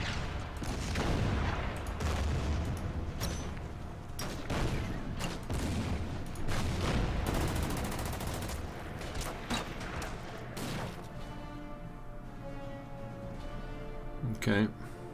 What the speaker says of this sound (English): Let's fire on that artillery piece.